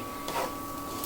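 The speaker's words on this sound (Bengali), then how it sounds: "আর এদিকে আমি ইন্ডাকশনে আমার হাঁড়িটা বসিয়েছি, হয়তো এই জন্য একটু আওয়াজ হচ্ছে।" An induction cooktop heating a cooking pot in a small kitchen gives off a steady, thin electronic whine with a faint hiss underneath, constant and unbroken.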